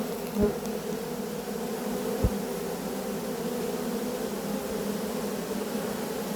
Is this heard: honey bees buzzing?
yes